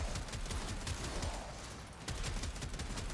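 Rapid gunfire and grenade-launcher blasts from the Trumna Prime weapon in the game Warframe, a steady low rattle of repeated shots under a constant background wash, fairly faint.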